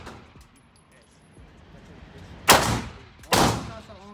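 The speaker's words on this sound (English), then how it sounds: "Shoot it till you clear the weapon." Two loud, sharp shots from a Zigana Model F pistol ring out close by, spaced under a second apart, each with a short echoing tail, after quieter background sounds.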